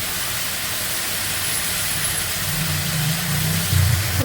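Chicken pieces fry together in a pan, making a loud, continuous, close sizzling hiss with a low rumble underneath. No one speaks.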